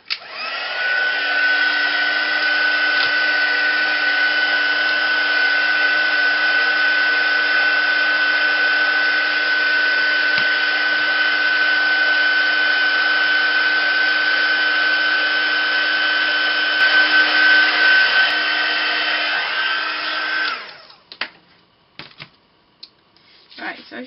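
A heat tool dries paint on a mixed media tag card, giving a loud, steady blowing whine that runs unbroken for about twenty seconds before cutting off, followed by a few faint handling clicks.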